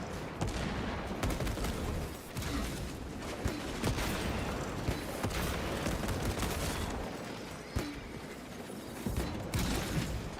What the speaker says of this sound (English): I was just shooting like right down the middle of them.